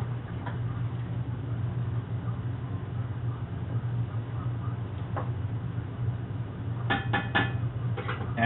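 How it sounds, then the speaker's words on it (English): A spoon stirs shrimp gumbo in a pot, giving a low steady rumble with occasional light taps and a quick cluster of metallic clinks near the end. "And I'm going to stir it"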